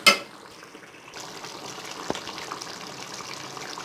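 Half-cooked chicken with yogurt, stirred together in a pot for homemade chicken biryani: a sharp clank at the start, then a steady low sizzle with soft spoon scrapes and one brief knock, close by and with no voices.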